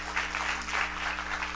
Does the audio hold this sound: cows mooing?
no